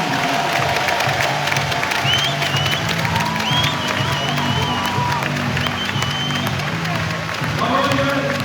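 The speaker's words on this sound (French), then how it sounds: "J'aimerais qu'on applaudisse bien fort Yvette Faure." A loud crowd at a handball club's end-of-season ceremony applauds and cheers a departing player, dense steady clapping with whoops and shouts, a voice speaking over it.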